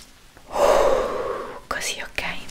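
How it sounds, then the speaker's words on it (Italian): A person takes a long, strong, deep breath in during a relaxing medical-exam roleplay, drawn out close to the microphone, followed by a couple of softer breaths. "adesso prima io ti chiedo di respirare forte"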